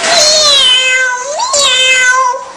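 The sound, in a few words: child imitating a cat meowing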